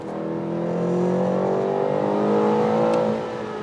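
A 2020 BMW M8 Competition with a 625 hp engine accelerates hard, its rising engine note climbing smoothly in pitch and swelling in loudness before easing off near the end, heard from close by.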